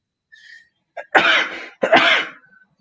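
A person sneezes twice in quick succession, close and loud, with a short breathy intake before each sneeze.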